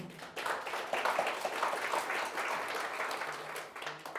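A seated audience applauds at a startup center opening ceremony, a steady wash of clapping from many hands lasting throughout, moderately loud and even, with no talking over it.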